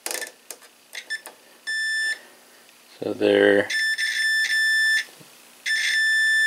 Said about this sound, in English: if you hear like a quick beep and it stops